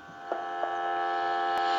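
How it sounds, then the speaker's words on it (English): A steady, continuous dial tone from a Spirit of St. Louis novelty telephone, with a few faint clicks near the start, holding evenly throughout with no voices. "And we'll give you some dial tone."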